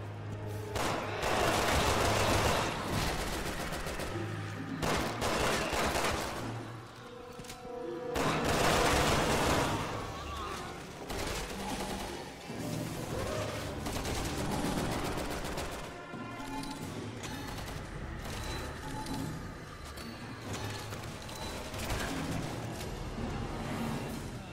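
Sustained gunfire in the Resident Evil 6 video game, rapid bursts of shots and booming impacts layered over game effects and music, loud and continuous throughout with brief lulls.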